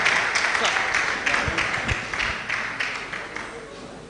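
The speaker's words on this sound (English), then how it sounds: "can we clap for him as he takes his seat?" A conference audience claps for a presenter returning to their seat at a blood-security and global-pandemics meeting, a steady, moderately loud patter of many hands lasting throughout with a few lower thumps beneath.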